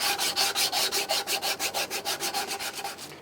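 A homemade hand sander fitted with 25mm strips cut from 100mm belt sander belts works across wood in quick, even back-and-forth strokes, about twenty close, rhythmic rasps in a few seconds with no talking.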